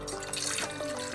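Water splashes and trickles briefly as it is poured into a mix for cleaning a non-stick dosa pan, a short, faint, close liquid sound heard alone.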